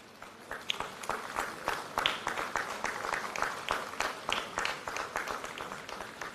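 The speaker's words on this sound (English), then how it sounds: "A huge round of applause." Audience applause at a national government workshop on local sustainable development goals for gram panchayats, greeting an official: dense, steady clapping from a full hall, fairly close, lasting the whole stretch with no talk over it.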